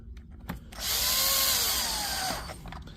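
Power driver spinning a screw into a DeWalt tool body, one close whirring burst of about a second and a half, preceded and followed by small handling knocks.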